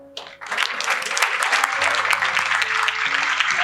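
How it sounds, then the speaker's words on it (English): A university student inauguration event crowd claps for the runner-up of the Best Outgoing Student Award; loud, dense applause starts abruptly and carries on steadily, with faint voices and a low hum beneath. "Give a big round of applause, everyone."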